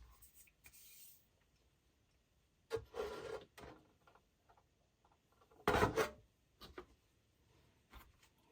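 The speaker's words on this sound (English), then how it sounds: "The only thing I've got to do now is fill those holes in, which is going to take a little bit more putty." Pre-mixed putty pressed into holes on a Tamiya Scania R470 model truck being converted to a tanker: intermittent close scraping and rubbing strokes in short bursts, two louder scrapes among quieter ones, no speech.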